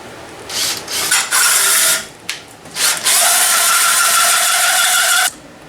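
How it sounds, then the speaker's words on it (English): A power drill drilling out metal on a gas tank for a Predator 212 engine whines in several bursts, stopping and restarting, then runs steadily for a couple of seconds before cutting off; close and loud. "I'm going to go ahead and drill this out"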